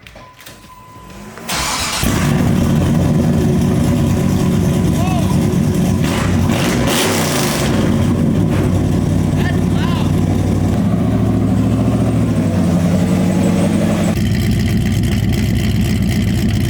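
A car engine starts and then runs loud through a freshly welded exhaust, a steady heavy drone with revs rising and falling over several seconds, close up, with people talking underneath.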